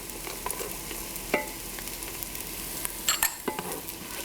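Minced garlic and fresh ginger sautéing in a pan for African peanut stew, a quiet sizzle with a few utensil clinks and scrapes, the loudest cluster near the end.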